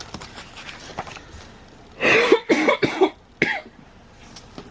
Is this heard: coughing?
yes